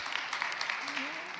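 Applause rises from the audience at a climate conference, a brief even wash of clapping with a voice speaking over it.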